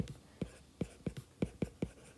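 Pen or pencil writing a math note, heard close and quiet as a quick series of short scratchy strokes in an uneven rhythm.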